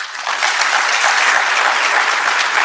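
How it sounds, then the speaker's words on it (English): Dense audience applause at an awards breakfast, a continuous loud wash of many clapping hands with no break. "if we can give them a round of applause"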